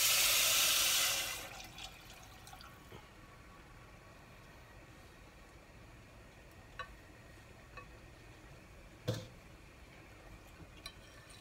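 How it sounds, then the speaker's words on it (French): Chicken broth is poured into rice in a pan, a loud gushing splash lasting about a second and then falling quiet, followed by a few faint scattered clicks. "maintenant, je rajoute le bouillon"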